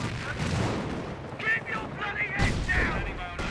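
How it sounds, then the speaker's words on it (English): Distant rattling machine-gun fire from a Cromwell tank in Company of Heroes, mixed with heavier booms of battle; a couple of sharper bursts stand out over the steady din. "Cromwell, or Command Cromwell, has a machine gun. He can like start firing way here."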